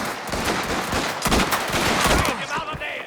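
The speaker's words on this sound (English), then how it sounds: "Gunshots!" Gunfire from the video game Mafia: The Old Country, a rapid burst of close, loud shots cracking in quick uneven succession with heavier blasts in the middle, over a busy background of action noise.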